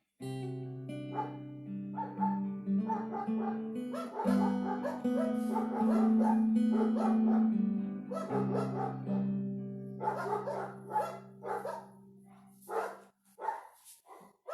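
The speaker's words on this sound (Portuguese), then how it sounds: "esses cachorros não param de latir" Dogs bark and yip repeatedly in a busy burst, close and fairly loud, over a steady droning tone, fading to scattered yelps at the end.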